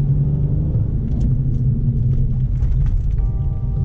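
Steady low engine rumble from a Mercedes C-Class CW205 coupé while driving at night, continuous and close with road noise, no talking.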